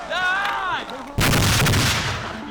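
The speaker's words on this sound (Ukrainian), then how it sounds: "Граната!" A grenade detonating during infantry basic training, a loud sudden blast that sets off a long rumbling roar and decay, preceded by a rising tonal whine.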